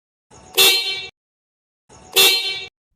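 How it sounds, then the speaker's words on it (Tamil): A motorbike horn outside a house gives two loud, short honks about a second and a half apart, with silence between. "ஹார்ன் அடிச்சு பார்ப்போமா?"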